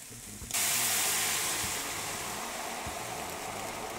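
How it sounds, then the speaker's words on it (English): Stock pours into a hot pot of Jamaican curry shrimp, setting off a sudden loud, steady hiss of steam and sizzling that holds strong after a quiet start. "Now I'm gonna add in the stock."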